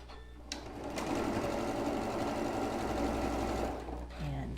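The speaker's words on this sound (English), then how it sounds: "we're going to sew a seam right there" A sewing machine stitches a seam across a quilt block made from a square and a triangle, whirring steadily and close for several seconds with a soft mechanical buzz before slowing to a stop.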